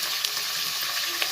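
Sambar masala paste of garlic, tamarind, cumin and coriander leaves fries in a pan with a close, steady sizzle and small crackling pops.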